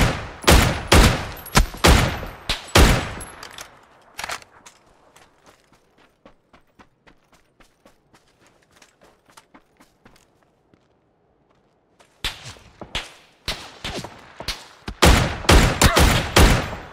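Rapid bursts of submachine gun fire in a first-person shooter video game, loud and close. Dense volleys open and close the sequence, and a quieter stretch of sparse clicks and shots sits in the middle.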